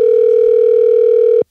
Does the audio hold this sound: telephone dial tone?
yes